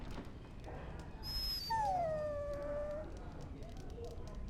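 A dog in the video game Dragon Age: Origins gives a single drawn-out whimper that slides downward, with a brief higher squeak before it, set over a steady low game ambience.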